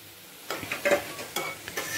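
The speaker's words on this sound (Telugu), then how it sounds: "ఇదైతే ఇప్పుడు మంచిగా ఫ్రై అయిపోయింది" A tomato curry with amaranth greens and chickpeas is stirred as it fries in a pan, giving a soft sizzle under several close scraping strokes of a spoon, with no talking.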